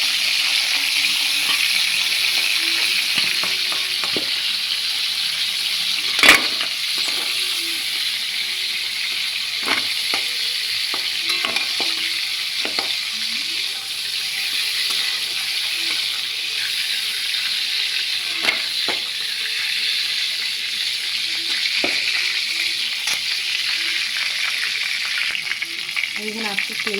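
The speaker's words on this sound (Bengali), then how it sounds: "কাঁকড়াটা ভাজা হয়ে গেছে হালকা করে," Crab frying in oil, a continuous, even sizzle heard up close with occasional light clicks and pops and one sharper knock, with no voices.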